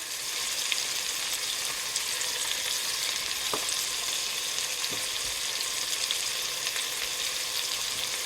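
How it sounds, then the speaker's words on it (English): Trimmed beef cubes sear in a pot for a hearty vegetable beef stew, giving a constant loud sizzle and crackle with a few faint knocks as the meat is stirred. "We're just going to continue to put the meat in here."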